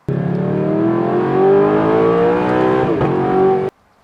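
A petrol supercar engine revs hard and loud, its rising pitch holding steady before a brief dip and a final climb, then cutting off abruptly into silence.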